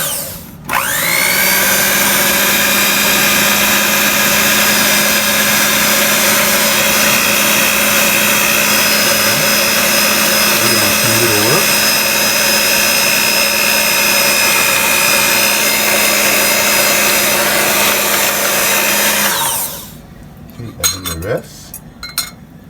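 Mango pancake batter being mixed with a steady, whirring electric mixer that runs continuously and fairly loud for about twenty seconds, with faint clinks of metal against the bowl, then stops abruptly near the end.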